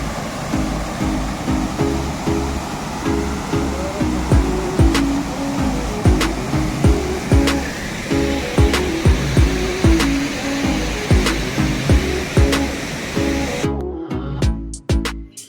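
Chundi waterfall near Ranchi pours in a steady, loud roar of rushing water, with a rhythmic engine-like pulsing over it, before the sound cuts out near the end.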